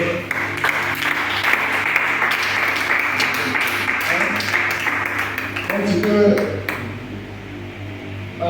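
A church congregation claps and cheers to acclaim the Lord, a loud, steady wash of applause with bright ringing tones over it and a voice talking above the crowd, before it dies away near the end.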